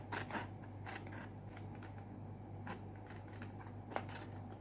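Scissors cut through card for a handmade Christmas card, giving faint, soft snipping strokes spread across a quiet background hum.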